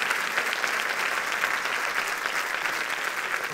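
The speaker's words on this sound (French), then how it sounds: "Merci d'applaudir tous ceux qui ont voté" An audience applauds the people who voted in a best-watches-of-2024 awards event, a dense steady wash of clapping from a crowd that holds at an even level throughout, with no voices standing out.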